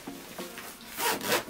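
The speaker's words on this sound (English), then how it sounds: "I'm gonna go ahead and compress it with the other zipper provided" A zipper on a packing compression cube pulled in a few short rasping strokes, then a longer, louder zip close by, the fabric rubbing as it closes.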